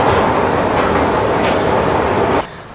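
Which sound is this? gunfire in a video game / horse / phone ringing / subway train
subway train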